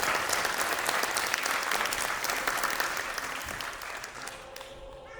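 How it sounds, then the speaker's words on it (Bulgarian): Audience applause for a ship modelling club at an awards ceremony for a municipal recitation contest, steady dense clapping from a large crowd that tapers off slightly toward the end. "Аплодисменти за клуба по корабомоделизъм"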